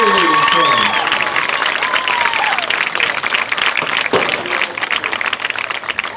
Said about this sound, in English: Let's have a round of applause for all the senior members of our Hedgesville High cheerleading team